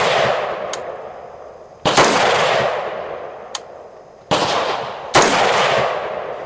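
A rifle fed from a Lancer polymer magazine fires several sharp, loud shots at uneven intervals, each blast followed by a long echoing decay outdoors.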